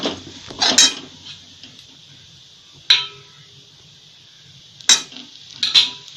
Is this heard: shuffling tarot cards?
no